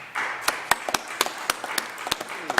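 Audience at a mayor's press conference for an EPA award clapping, a scattered round of individual claps close to the microphone, irregular and fairly light rather than a sustained ovation.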